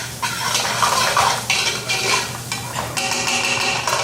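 Caramelized onions for a risotto cook in a pan, sizzling steadily while a utensil stirs and scrapes against the pan in repeated close strokes, with no talk.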